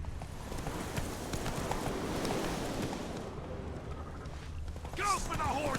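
The horse Roach gallops in The Witcher 3, giving a steady, fast clip-clop of hooves under wind, followed by a short neigh-like sound near the end.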